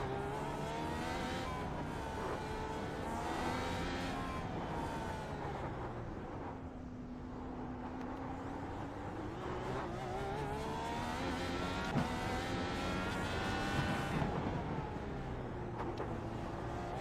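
A race car engine drones on a motion-simulator driving game, revving up and down through gear changes with occasional tyre noise, loud and continuous with no talk.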